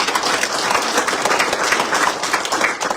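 An audience at the 9th East Turkistan General Assembly breaks into dense, loud applause that carries on evenly throughout, with no speech over it.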